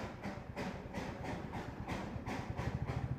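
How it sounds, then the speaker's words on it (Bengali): Darjeeling toy train drawn by a steam engine, heard as a rhythmic chugging with regular pulsing beats and low rumbling, fairly close and steady for a few seconds. "steam engine,"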